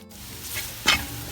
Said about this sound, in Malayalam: ഇനി അതൊന്ന് മിക്സ് ചെയ്ത് കൊടുക്കാം നന്നായിട്ട്